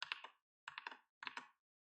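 A computer keyboard shortcut is pressed: three quick, close bursts of crisp key clicks, each a cluster of a few taps, separated by brief silences.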